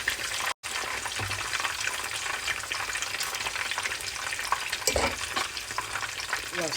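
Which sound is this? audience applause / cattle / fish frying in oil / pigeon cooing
fish frying in oil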